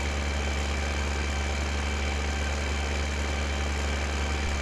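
A tractor engine straining under a 15-ton trailer in Farming Simulator 2015, a steady low drone holding constant with no pauses or speech.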